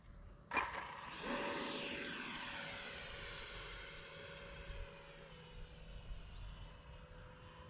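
A small Freewing F-22 64mm electric ducted-fan RC jet on a 4S battery whines past overhead, its high-pitched engine tone sweeping down in pitch as it flies by and fades into the distance.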